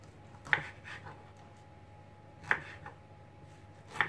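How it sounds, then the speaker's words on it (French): A knife chops through an artichoke on a board, three sharp distinct cuts spaced about two seconds apart, close and clear over a quiet hum. "Maintenant, avec l'artichaut اللي وجدت, je vais le couper"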